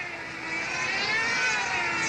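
A control-line model aircraft engine whines steadily at the 1994 control-line world championships. The high, buzzing drone rises slightly and holds at a fairly close distance with no talk.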